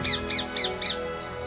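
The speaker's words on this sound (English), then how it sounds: "with their insistent squawking, horrendous birdsong and destructive eating habits" Green parakeets in Hyde Park, London, four loud, harsh squawks in quick, even succession, close by.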